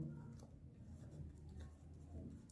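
A pen or pencil scratches steadily across paper as a math solution is written out by hand, a faint continuous rustle close by with no speech.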